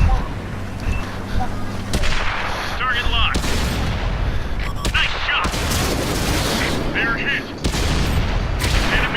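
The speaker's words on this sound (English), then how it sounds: "we'll see what we can do in battle with this little 2-pounder gun." Tank cannon fire from the 2-pounder gun of a Vanquisher AC1 in the World of Tanks video game. Several loud, sharp shots crack out over a constant engine rumble and battle noise.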